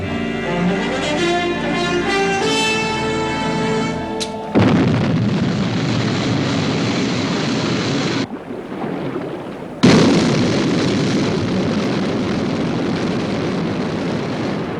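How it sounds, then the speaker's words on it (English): An aircraft lifting off: a tonal engine whine gives way to a loud, steady broadband roar that briefly drops out and then surges back, continuous and close. "Stand by for liftoff."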